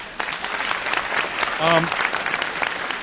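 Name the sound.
audience applause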